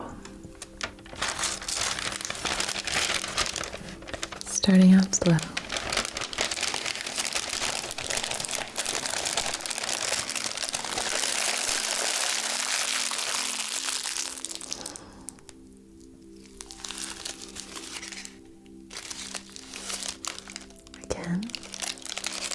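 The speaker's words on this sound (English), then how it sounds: "Or we could crumple." Soft crinkling and crumpling of material, likely paper or plastic, handled close up in an ASMR session, a steady rustle running almost throughout, starting slowly, with a gentle voice speaking briefly near the start and end.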